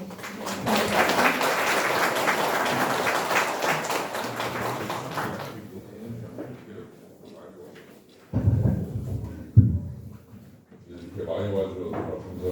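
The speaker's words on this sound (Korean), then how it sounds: "큰 박수로 맞아주시기 바랍니다" Audience at a political party policy debate forum in Daejeon's Dong district applauding for the host's opening speech: loud, dense clapping for about five seconds, then it fades into room noise, thumps and a voice speaking.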